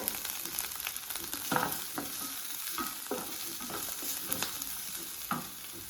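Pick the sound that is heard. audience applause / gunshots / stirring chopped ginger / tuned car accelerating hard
stirring chopped ginger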